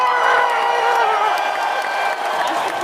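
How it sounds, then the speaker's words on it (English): Recorded applause and cheering from a crowd is played as a cue during an online talk show, a continuous wash of clapping and whoops, loud and steady throughout. "Oh, Lois, cue the applause again."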